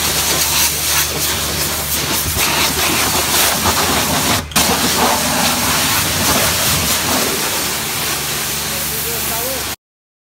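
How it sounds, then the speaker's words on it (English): Local valeters wash down car seats and polish the paintwork, a steady broadband hiss of spray running almost without pause, loud and close, with a brief sharp burst midway and voices talking underneath. "here's the local valeters washing those seats down for me and also giving it a polish"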